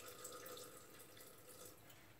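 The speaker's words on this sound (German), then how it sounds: "Ich nehme immer lauwarmes Wasser, damit mein Hefe, liebe Tomate, nicht so einen Schock bekommt vom kaltem Wasser." Lukewarm water pours steadily from a tap into a bowl for bread dough made with lievito madre in a Thermomix, a faint continuous splashing stream heard alone in a quiet kitchen.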